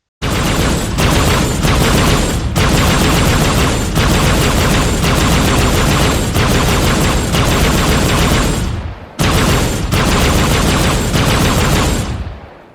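Sustained rapid automatic fire from a Halo Covenant weapon in the video game Arma Reforger, a loud, dense burst with brief pauses near 1, 2.5 and 9 seconds before firing resumes.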